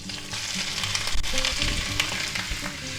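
Sliced mushrooms sizzle and crackle steadily in hot oil in a cast iron pan, a close, continuous frying hiss with a few louder pops and light scraping.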